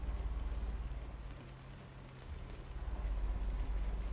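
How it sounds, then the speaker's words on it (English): Rain falls steadily while driving in American Truck Simulator through Texas, a faint continuous patter over a low rumbling engine hum that dips briefly midway before rising again. "Be nice if it wasn't raining"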